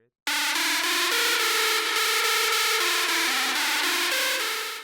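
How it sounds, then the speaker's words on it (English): Screechy, heavily distorted synthesizer lead patch from Roland Zenology, playing a sustained stepping melody loudly and continuously for several seconds after a brief silence. "So this was like a really screechy and distorted lead."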